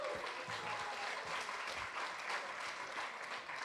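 An audience claps steadily to welcome guest Arzu Rizayev at a comedy show, a moderately loud, even wash of applause with no talking.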